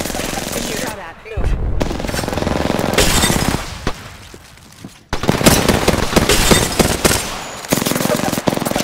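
Loud, rapid automatic gunfire from the video game Apex Legends comes in sustained bursts with brief pauses between them, and a voice is heard alongside.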